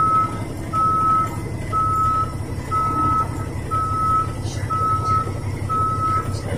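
Dump truck backing up in a traffic lane, its reversing alarm sounding a steady series of about seven evenly spaced beeps over a low diesel idle rumble.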